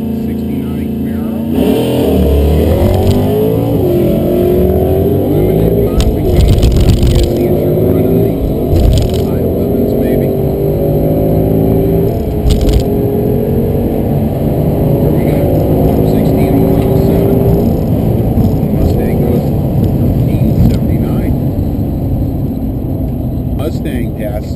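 A Ford Mustang GT and a 1969 Camaro in a stock eliminator class, probably a 350 engine, drag racing at a test-and-tune session at Lebanon Valley, with sustained loud engine roar that rises through the gears for the whole run.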